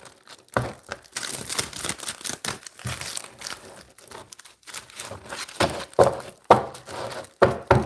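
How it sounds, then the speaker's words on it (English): A deck of tarot cards shuffled by hand, close up, in irregular bursts of papery riffling, flicking and soft slaps separated by brief pauses, with no voices. "Let me shuffle again."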